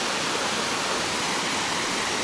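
A steady, dense roar of a waterfall, constant and full with no pauses, nearby and fairly loud.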